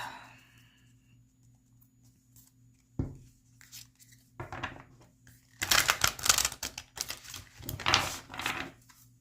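Tarot cards drawn and handled by hand, soft quiet rustles early, then louder bursts of shuffling, flicking and card slaps near the end, close and dry with no talking.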